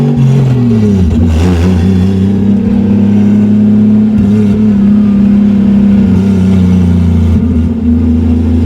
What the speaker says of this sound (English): How's it feel, Caden, be driving the Supra for the first time?